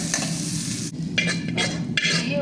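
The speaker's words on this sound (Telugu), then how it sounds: "కొంచెంగా వేయించుకోవాలి లైట్గా" Ingredients frying lightly in a pan with a steady close sizzle, broken by several scraping stirs of a spoon against the pan.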